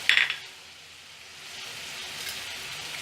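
Tomatoes and spices sautéing in a pan for egg kurma, a soft, continuous sizzle after a brief clink of utensil against the pan at the start, quiet and close with no voices.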